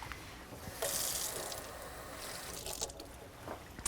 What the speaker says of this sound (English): So I'm going to go get water from the sink.